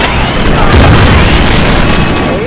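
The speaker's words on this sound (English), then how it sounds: "Hey, gunfire." Loud, dense bursts of gunfire and booming blasts in the video game Choplifter fill the whole stretch, with a constant heavy low rumble and no pauses.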